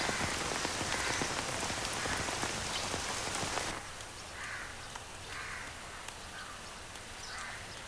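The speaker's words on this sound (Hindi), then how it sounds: "अरे ये बहुत तेज बारिश हो रही है" A loud, steady downpour of heavy rain drops to a softer patter partway through, with faint bird calls such as crows or ducks heard in the distance.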